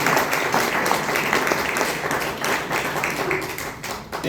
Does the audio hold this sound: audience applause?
yes